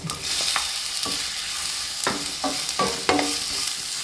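Ripe banana pieces and green chillies sauté in a pan for kaalan, a soft continuous sizzle broken by several sharp scraping strokes of a spoon against the pan, close and fairly loud, with no talking.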